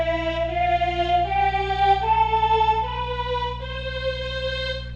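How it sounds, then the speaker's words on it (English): A sustained, organ-like instrument plays a major scale, climbing step by step through eight clear, held notes over a low steady drone. "Now, I will play real quick here for you what a major scale sounds like."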